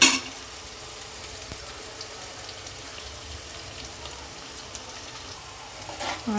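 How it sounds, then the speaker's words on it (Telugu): Onions frying in a pan for crab curry, a soft, steady sizzle with faint crackles throughout, low and continuous with no talking. "ఉల్లిపాయలు ఇలా సమానంగా అనుకుంటూ ఉండాలి చక్కగా కలిసి వేగుతూ ఉంటాయి"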